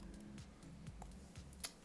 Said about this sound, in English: I'll type in J2EE.